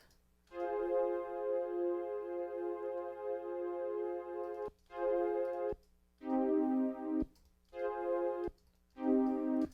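A basic two-chord progression playing from a synth in Ableton Live, with long sustained harmonic chords in repeating blocks separated by short gaps and a faint steady hum underneath.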